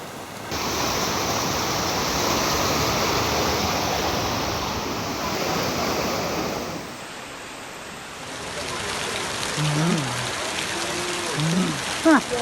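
Heavy floodwater after torrential rain along a roadside in Kandy, Sri Lanka, rushes in a loud, steady broadband roar that drops back to a softer wash near the end, where faint voices can be heard.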